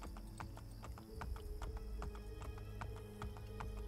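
Rhythmic clip-clop of horse hooves trotting steadily over a hard surface in the video game Assassin's Creed Brotherhood, with a low ambient drone underneath and no talking.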